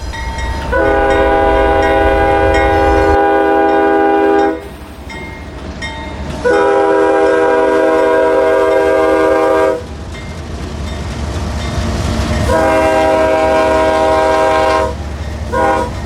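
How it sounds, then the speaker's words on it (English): A freight train hauling loaded phosphate gondolas rumbles past close by while its horn blasts three long, loud blows, with steady rolling rail noise between them. "a K-train bringing up a string of loaded phosphate gons into Mosaic's Bartow plant"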